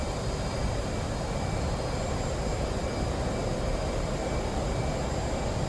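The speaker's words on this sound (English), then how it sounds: "Burners on, why not? Let's get some speed going." An F-18 jet engine roaring at full power with afterburners lit in a flight simulator, a dense, steady, loud rumble and hiss held unbroken throughout.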